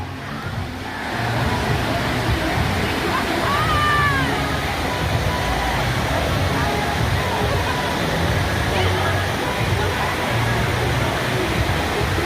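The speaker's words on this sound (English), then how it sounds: "There is a lazy river, by the way, look." Steady rushing water flows through a hotel lazy river at the MGM Grand in Las Vegas, a continuous loud wash of splashing with a faint bird or voice chirp above it.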